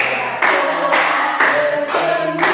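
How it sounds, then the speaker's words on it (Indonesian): A school class claps in unison while singing the song "Sorak-sorak Bergembira", with loud, evenly spaced group claps about twice a second under the voices. "semuanya menyanyikan lagu sorak-sorak bergembira sambil bertepuk tangan"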